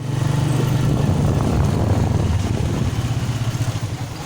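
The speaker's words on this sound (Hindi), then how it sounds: "बाहर बाइक स्टार्ट कर रहे हैं" A motorcycle engine runs close by outside a village home, a steady low rumble with a faint putter that pulses slightly toward the end.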